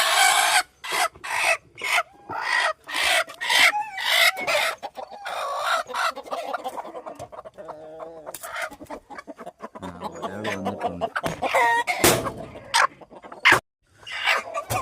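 Chickens in a coop, a broody hen among roosters, cluck and call in repeated bursts close by, with a short crow-like call partway through and some rustling and scraping.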